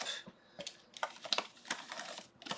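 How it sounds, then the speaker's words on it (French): A brush slides gently across a fragile computer keyboard during cleaning, producing soft, irregular clicks and brushing rustles in short bursts, close and fairly quiet, with no talking. "vous pouvez mettre un petit coup deux brosses comme ça en plus, la faire glisser tout doucement pour éviter d'arracher les touches si le clavier est fragile"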